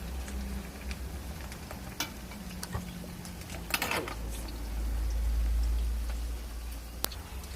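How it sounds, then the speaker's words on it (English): Crab meatballs sizzle in frying oil, a steady soft crackle with scattered pops and ticks, alone and close, with a low rumble swelling near the end. "So you have to leave it to fry."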